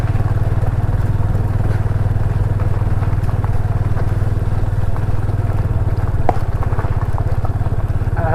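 A motorcycle rides along a rough road through dense forest, its engine a steady, loud mid-pitched drone with rattling clatter from the bumpy surface throughout.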